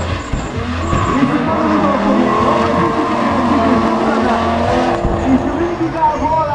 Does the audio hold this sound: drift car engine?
yes